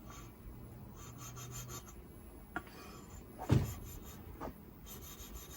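Steel chisel back rubbed on a fine sharpening stone, a faint intermittent rasping scrape with one brief louder stroke, quiet and alone.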